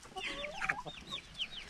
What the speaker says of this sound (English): you pick up a chicken and show it